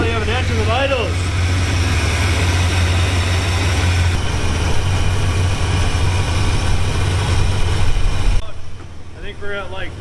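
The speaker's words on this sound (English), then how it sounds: "3 carburetors later, we finally have an engine that idles." A Dodge Diplomat engine, freshly fitted with a new carburetor, settles into a steady low idle, a continuous rumble running for most of the stretch under brief talk before cutting off near the end.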